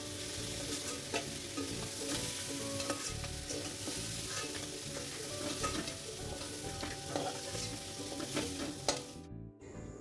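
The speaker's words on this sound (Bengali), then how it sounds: "চিংড়ি মাছ ভাজা হয়ে গেছে, এবার একে একে তুলে রাখবো।" Prawns sizzle steadily in hot mustard oil in a pan while being stirred and lifted out, a continuous close frying hiss that cuts off abruptly near the end.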